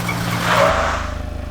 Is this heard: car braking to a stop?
yes